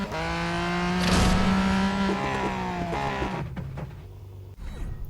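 A Ford GT race car from the Real Racing 3 racing game, engine droning with a steady tonal whine that shifts pitch as the car slides and skids, loud and close, with a brief dip and resume near the end.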